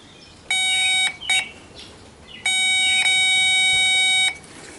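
A digital multimeter on its continuity setting, probes touched together while testing a 2009 Hyundai Accent multi-switch, gives a steady electronic tone: a one-second beep, a brief blip, then a longer two-second beep, loud and clear over quiet background.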